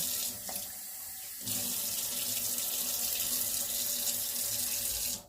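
Cold tap water runs from a faucet into a sink while a basil plant is rescued, a steady close rush that briefly quiets, then surges louder and continues before cutting off.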